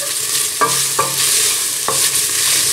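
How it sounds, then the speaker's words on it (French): Cantonese fried rice stirred in a pot, a spoon scraping and knocking the sides a few times over a steady sizzle of frying food, close and with no talk. "en mélangeant régulièrement ma marmite"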